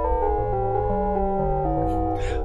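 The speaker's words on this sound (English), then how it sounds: "like dissonant, like a little bit metallic and everything." Bitwig polysynth run through a ring modulator, giving sustained chords with a dissonant, metallic, clanging edge and a short noisy burst near the end, with no talking.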